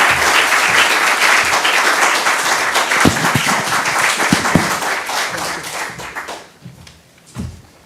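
Audience applause welcoming a professor to the lectern at the Quain Lecture, a dense sustained clapping from a seated crowd that thins and fades out toward the end.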